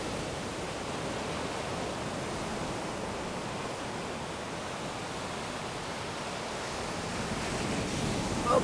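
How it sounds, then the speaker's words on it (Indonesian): Big ocean waves break on Bangko Bangko beach in Indonesia, a steady broadband roar of surf that holds evenly throughout at moderate loudness, with no voices. "Ombak besar."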